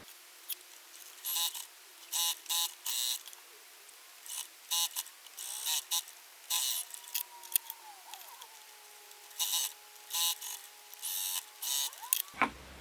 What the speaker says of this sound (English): So now I'm going to sew these rows together to make the full quilt block.